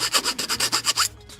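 Rapid rasping strokes of a file leveling leftover plastic sprue nubs on a part of a 1/144 HG Bandai Gunpla Dilanza model kit, about nine close, even back-and-forth scrapes in quick rhythm before stopping.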